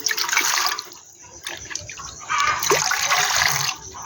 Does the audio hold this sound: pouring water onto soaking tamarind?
yes